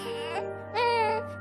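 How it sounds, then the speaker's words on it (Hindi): A baby cries in two short wailing bursts with a pause between, fairly close and moderately loud over a steady low hum, the sound coming from inside a large garbage bin. "उस बड़े से कूड़ेदान से एक बच्चे के रोने की आवाज आ रही थी"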